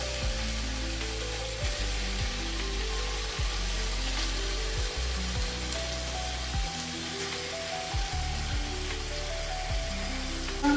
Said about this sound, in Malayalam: എന്നിട്ട് നമുക്ക് ഇതിലേക്ക് ചിക്കൻ ഇട്ട് കൊടുക്കാം